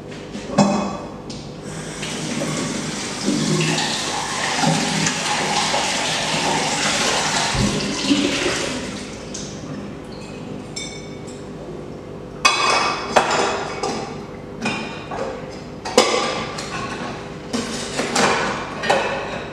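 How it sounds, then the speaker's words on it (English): Dishwashing at a kitchen sink, with a steady rush of running tap water and intermittent clinks and clatters of dishes and cutlery, close and fairly loud, with sharper knocks toward the end. "and I'm doing the dishes."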